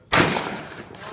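A single close, loud shotgun blast at a clay-shooting range cracks sharply and then rolls off into a long, fading echo.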